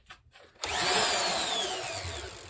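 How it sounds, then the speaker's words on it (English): A rotary tool is switched on by its foot pedal and spins up abruptly after a brief quiet moment, then whines loud and steady with a slight drop in pitch as it runs. "I just stepped on my rotary tool, foot pedal"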